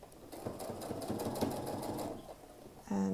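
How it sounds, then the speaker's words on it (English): A sewing machine stitches over the gathers of a train ruffle on a wedding dress, running in a steady close whir for most of the stretch before a brief pause and a louder restart. "So the way that I'm sewing is literally just sewing over the gathers and taking out the pins as I go."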